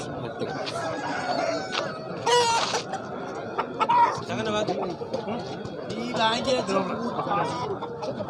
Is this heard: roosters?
yes